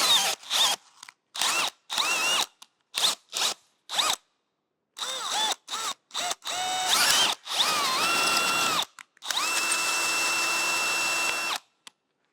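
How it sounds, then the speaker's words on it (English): A power-driven tap chases 5/8-11 bolt threads during a bandsaw motor bracket restoration, cleaning out body filler. Loud whirring comes in a string of short bursts, then grows into longer continuous runs. "I'm just going to chase these threads"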